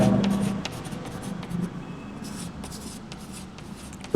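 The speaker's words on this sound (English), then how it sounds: "just draw it with different colors" Colored pens scratch across a surface at close range in quick, uneven strokes, with short scribbling bursts separated by brief pauses.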